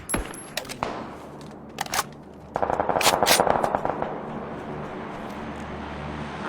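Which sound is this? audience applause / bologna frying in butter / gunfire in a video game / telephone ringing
gunfire in a video game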